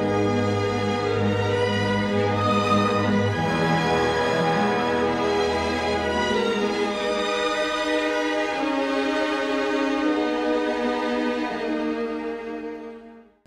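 Orchestral film score from the Star Wars sunset scene, sustained strings and horns swelling in a broad, lush passage, alone with no talk, fading out at the end.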